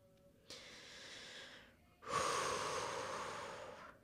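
A person doing a mobility stretch breathes slowly and audibly close to the microphone: a quieter inhale or exhale, then a longer, stronger breath out.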